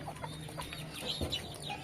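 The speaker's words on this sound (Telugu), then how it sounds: "మా కోళ్ళు ఇంకా లోపల పోతున్నాయి చాలా ఉన్నాయి" Hens cluck in a village yard, a few soft, close clucks and murmurs over a low steady background hum, with no talking.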